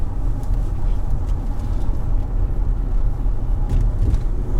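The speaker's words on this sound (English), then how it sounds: "get it up to about 30 miles an hour and just brake hard" A Range Rover L322 with newly fitted front brake discs and pads is driven up to around 30 mph on a road and then braked hard. A steady low engine and road rumble runs throughout, fairly close and even, without sharp squeals.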